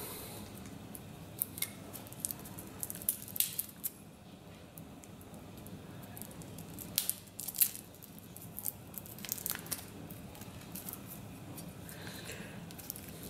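A pack of cards for a board game is torn open by hand, quiet crinkling wrapper and scattered tearing and rustling bursts close by, with long softer gaps between.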